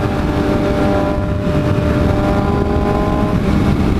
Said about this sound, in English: we're not changing the exhaust on Broly, because she's hella loud